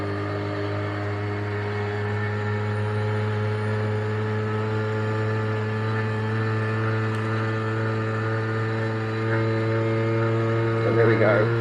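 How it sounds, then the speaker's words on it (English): Steady wind rush over an open-face helmet while riding a Honda NU50 scooter, mixed with the little engine's constant droning hum, loud and continuous throughout. "So excuse the wind noise."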